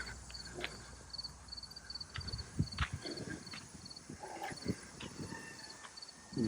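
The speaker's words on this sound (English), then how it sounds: "Freaking horses." Horses out on a pasture move about with soft, irregular hoof thuds and snorts at close range, while insects chirp steadily in the background and no one speaks.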